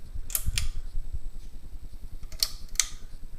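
Hampton Bay Maris 44-inch ceiling fan turning at low speed, a soft low hum with a few sharp mechanical clicks, two close together early and two more near the end.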